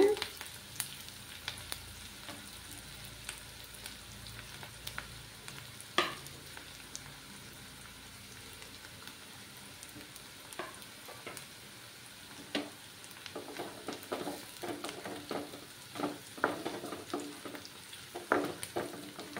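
Onions frying in a pan until reddish for a coconut milk fish curry, a continuous sizzle broken by frequent scraping and stirring clatter that grows busier toward the end, close and moderately loud, no talking.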